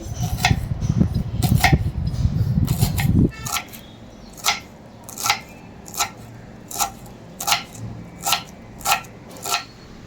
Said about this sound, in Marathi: आपण कोबी बारीक चिरून घेऊया